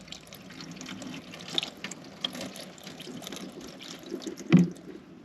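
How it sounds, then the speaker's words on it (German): Water is poured into a Mercedes W201 190D, giving soft, faint trickling with scattered splashes and a few sharp plastic clicks. The louder splash comes near the end, over quiet background. "First pouring it in here."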